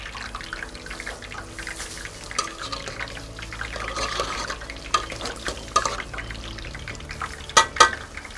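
Funkaso pieces frying two at a time in a narrow pan give a soft, steady sizzle close by, with faint clinks and stirring sounds on top.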